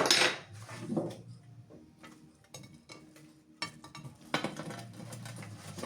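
Meat being moved into a shashlik serving pot, heard as scattered metallic clinks and scrapes with some soft ticking, fairly close and moderately quiet, and no talk over it.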